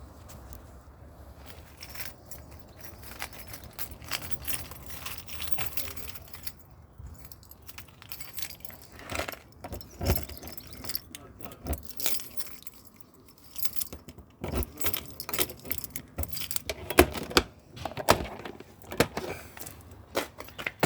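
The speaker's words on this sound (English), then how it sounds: "Let me get the keys." Keys jangle and clink at the waste cassette door of a 2003 Elddis Avante 524 caravan, a series of close metallic jingles and rattles in irregular bursts that grow busier toward the end, with no talking.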